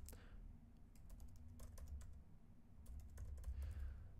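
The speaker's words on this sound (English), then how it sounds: "Sorry about my typing here." Computer keyboard typing, a fast run of light clicks in bursts over a steady low room hum, close and alone with no voices.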